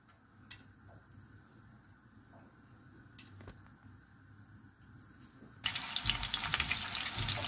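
Crushed ginger and garlic paste is dropped into hot oil in a kadai while mutton kadai is being made. After a few seconds of quiet ticks and faint bubbling, a loud, close sizzle erupts and keeps going.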